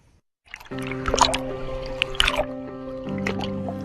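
Water from the Kern River in Kernville streams and trickles close by, with drips and small splashes over a steady flowing wash that runs throughout.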